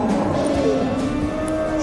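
Dairy cow mooing in an unfamiliar setting while waiting its turn, a sustained low bellow that dominates the clip with steady background noise and no talk.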